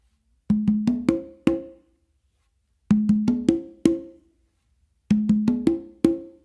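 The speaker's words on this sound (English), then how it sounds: "So I'm playing this pattern with 2 tumbas and a conga." A funk tumbao bass pattern played on two tumbas and a conga: three identical phrases of quick hand strokes, each a short run of open tones rising in pitch and ending with an accented hit, separated by brief silences, close and clear.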